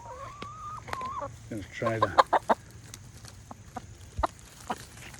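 Chickens cluck in short bursts close by while eating corn on the cob, mixed with scattered pecking taps, while a person speaks briefly at the start.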